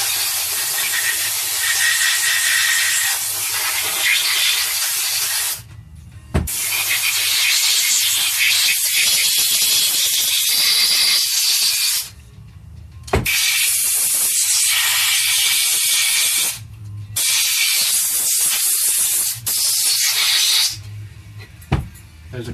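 Compressed air blasting out the valve body and pump cover parts of a 4L60E transmission during a rebuild: loud, close hissing bursts in four long sprays separated by brief pauses, with no talk over them.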